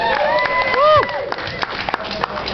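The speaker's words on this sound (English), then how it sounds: "Can I get a clap for that?" A comedy club audience at a standup show in New Orleans answers with a short burst of clapping and cheering, brief and fairly close, with voices over it.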